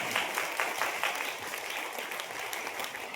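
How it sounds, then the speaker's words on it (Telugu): Loud, dense applause from a large crowd at a night gospel meeting, steady and continuous throughout with no break. "బిగ్గరగా చప్పట్లు."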